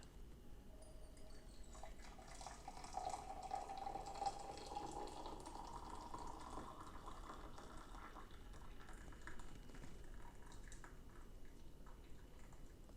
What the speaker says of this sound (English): take my water, and just gently pour it in there